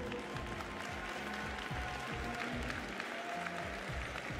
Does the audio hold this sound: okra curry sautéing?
no